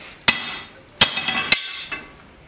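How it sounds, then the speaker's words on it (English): Hammer blows cold forging a small divot into a steel blade blank on the edge of an anvil: three sharp metallic strikes with ringing decay, followed by a fainter tap, close and alone. "Turn it up and just cold forge in a little divot there"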